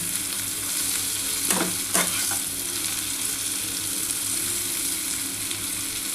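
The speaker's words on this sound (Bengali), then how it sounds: "কাঁকরোলটা ভাজা হয়ে গেছে, একটু ব্রাউন কালার হয়ে গেছে" Slices of spiny gourd (kakrol) frying in a pan, a steady oil sizzle throughout with a couple of brief stirring scrapes near the start, no voices.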